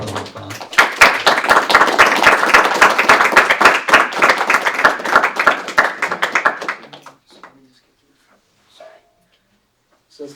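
An audience at a talk on the Maha Mantra with Bhakti Prabhava Swami claps in a loud, steady round of applause for about six seconds, then fades out into near silence with scattered faint sounds.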